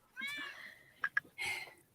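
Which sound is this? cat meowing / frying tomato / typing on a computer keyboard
cat meowing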